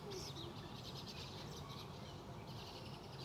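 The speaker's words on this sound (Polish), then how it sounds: "Ptaki zaczęły się kłócić." Several birds squabble outdoors, with chirps and calls rising over steady background noise throughout.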